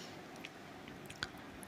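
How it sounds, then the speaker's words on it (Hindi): Soft wet squishing and small sticky clicks as besan-style batter paste is stirred with a little water for bread pakoda, quiet and close with intermittent spurts of sound. "तो इसे अच्छी तरह से घोल लूँगी"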